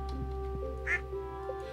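Ducks quack in the Stardew Valley video game, a short, clear quack standing out over steady game music and tones.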